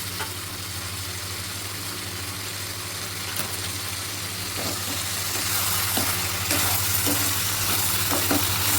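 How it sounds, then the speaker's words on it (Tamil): Garlic, curry leaves and coriander sautéing in a pan for spicy tomato chutney make a continuous close sizzle that swells slightly toward the end, over a low steady hum, with occasional soft clicks and no speech. "வெள்ளைப்பூடு, கருவேப்பிலை, மல்லியிலை போட்டுக்கலாம்."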